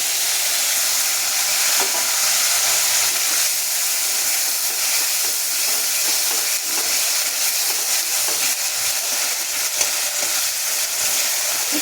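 Ground paste of onion, ginger and a few garlic cloves frying in hot oil, a constant loud sizzle and hiss with faint stirring clicks, no voices.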